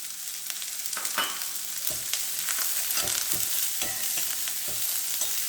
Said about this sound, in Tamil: பச்சை மிளகாவை இதை வறுக்கிறேன்